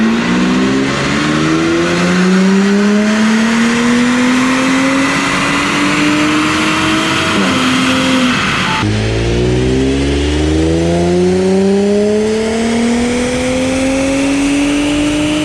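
Audi B9 S4 with a Unitronic Stage 1+ tune on 93 octane fuel, roaring through a dyno pull: loud, close engine note rising steadily in pitch, a brief dip near the midpoint as it shifts, then climbing again to the end.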